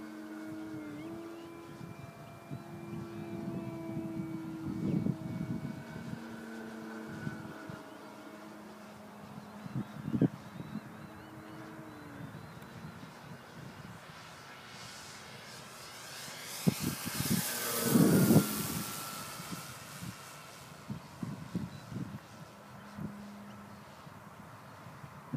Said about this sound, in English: Are you flying that plane like a helicopter